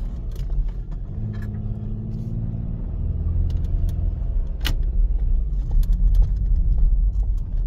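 A vehicle bumping and jolting along a deep, rutted desert road, its engine rumbling steadily and loudly with rattles and knocks from the rough track and no talk over it.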